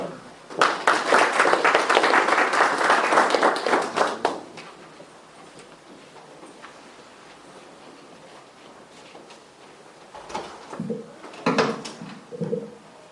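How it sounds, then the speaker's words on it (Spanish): Audience applause at a book presentation, a burst of clapping for about four seconds that fades, followed by quieter scattered sounds and a few brief knocks and movements. "Un fuerte aplauso."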